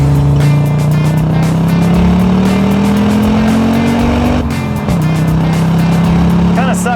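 An Audi five-cylinder turbo engine drones loudly from inside the cabin, pitch rising steadily as it accelerates, then dropping at a gear change before climbing again.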